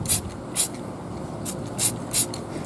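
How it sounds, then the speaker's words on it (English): Short hissing bursts of spray paint hit a ruined-temple terrain model, five quick separate puffs with quiet gaps between them. "So I'm just gonna spray a little bit down here in there"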